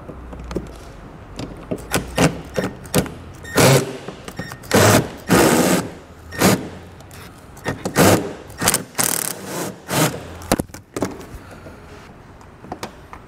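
A ratchet fitted with a 7mm socket backs out a bumper fascia screw during a trailer hitch install, making a series of close, loud ratcheting bursts in an uneven rhythm with short gaps between them.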